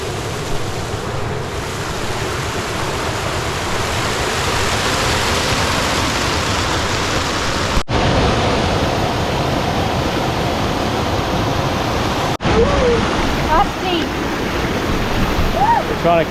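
Loud, constant roar of a waterfall on the Wearyan River, Northern Territory, close by, with a couple of abrupt bumps and faint talk toward the end.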